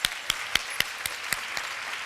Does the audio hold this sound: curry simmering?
no